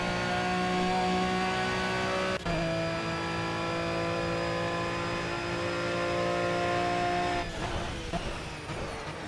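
Aston Martin Vantage V12 GT3 in Project CARS at Monza, its engine drone steady and loud with strong harmonic whine, a sharp shift break near 2.4 seconds and a change in pitch later as the car slows for braking.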